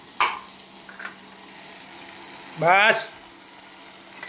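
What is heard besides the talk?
cumin added to a pan while cooking fenugreek greens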